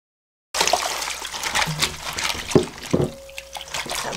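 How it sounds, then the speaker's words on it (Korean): Thick-cut onion pieces are soaked and pulled apart by hand in water, making close, irregular splashes, drips and sloshing with small knocks. "물에 담가서 이렇게 조금 서로서로 붙어있는 거를 좀 떼어줍니다"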